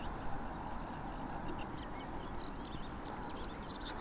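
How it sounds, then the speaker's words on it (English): Ducks quacking as they swim past on a canal, a few calls rising over steady broadband water and wind noise at moderate distance. "as the ducks swim past"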